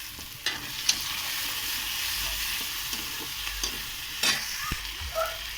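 Green chillies, onion, tomato and ginger sizzle in a pan, with steady broadband frying hiss, occasional stirring clinks and scrapes, close and moderately loud with no voices.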